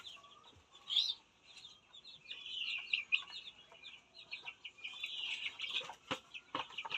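Chickens kept by a household cluck and call in repeated bursts, fairly close, with scattered short knocks and rustles of farmyard activity around them.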